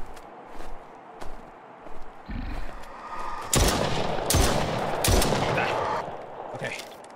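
Gunfire in the survival game Night of the Xmas Trees: scattered single gunshots, then a dense rapid volley of shots with a loud crack near the end, heard alongside footsteps and occasional speech.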